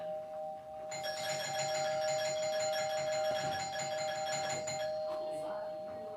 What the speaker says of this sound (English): somebody ring the doorbell.